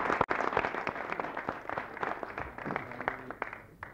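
A television studio audience applauds a football coach on a 1985 Italian sports show, a steady patter of clapping at moderate distance with faint talk over it.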